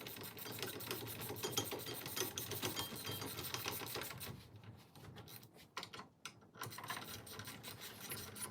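Brake caliper being bolted back onto a Polaris Sportsman 450 ATV after new pads go in: steady scraping and ratcheting rasps from a hand tool, close and continuous, broken by a few short pauses and irregular clicks.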